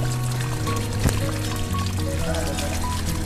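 Cool, clear mountain spring water pouring and trickling in a steady stream, close by and fairly soft throughout.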